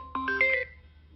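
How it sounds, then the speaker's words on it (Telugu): Mobile phone ringtone plays a short bright melodic phrase of a few stacked tones, clear and fairly close, then cuts off into near silence. "డెవిల్ తలుచుకోగానే ఫోన్ చేస్తుంది."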